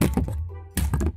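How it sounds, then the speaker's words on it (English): A computer keyboard is struck hard, several sharp clacks and thuds in two quick bursts separated by a brief pause, close and loud with no speech. "That was just part of my keyboard."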